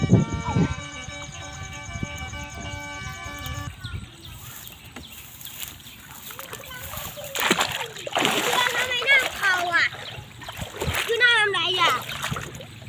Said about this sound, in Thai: มา เล่นน้ำกันนะครับ